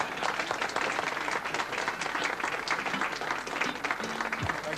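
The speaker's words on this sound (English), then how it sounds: "The applause for the men who have turned old France into new Norway has faded away" A large audience applauds the shipyard workers who converted the liner SS France into the Norway, steady dense clapping filling the whole stretch at an even level, with no voices on top.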